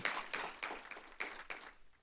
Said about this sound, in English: That does deserve an applause, Vice President Johori